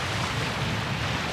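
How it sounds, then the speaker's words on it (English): Strong wind roars steadily across the microphone on a lakeside beach in Algonquin Park, a dense, constant rushing noise with no pauses. "Super windy. It's been windy all day."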